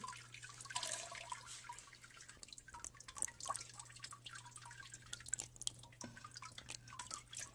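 Water trickles and drips steadily from paper pulp in a papermaking tub, soft and close, with a faint low hum underneath.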